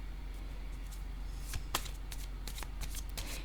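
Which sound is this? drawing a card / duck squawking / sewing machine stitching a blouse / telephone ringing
drawing a card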